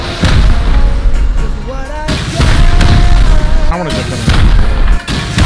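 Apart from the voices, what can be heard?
rocket explosions from the video game Rust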